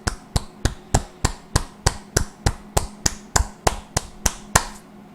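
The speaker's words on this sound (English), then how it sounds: "I'm clapping." Hands clap alone in a steady, even rhythm, about thirteen sharp, close claps roughly every 0.35 seconds, each a crisp smack with a short tail.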